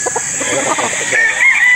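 An imported grey gamefowl rooster crows close by in a loud, sustained call with a clear pitch rise, over a busy gamefarm background of other fowl and people talking.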